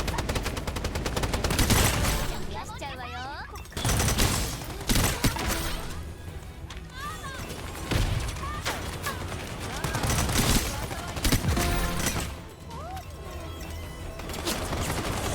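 Rapid bursts of gunfire from the shooter game Strinova, with repeated close, loud volleys and short pauses between them, set over steady game sounds and music.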